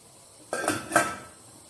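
A metal lid is set onto a pot of fava beans left to boil, making two quick, close clinks over a faint room background.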